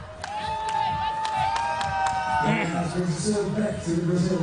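Crowd cheering and shouting at a women's beach volleyball world championship match in Amsterdam, a loud, sustained roar with whistles and excited cries swelling midway, with a commentator talking over it.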